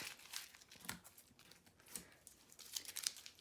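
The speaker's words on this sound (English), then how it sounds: "tape, tape, tape, tape" Tape being pulled and pressed onto a glitter-filled Magic 8 Ball trapped key fob, giving close, quiet crinkling and tearing sounds in short irregular bursts.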